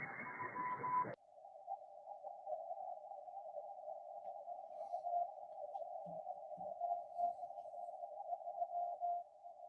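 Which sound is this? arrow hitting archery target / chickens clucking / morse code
morse code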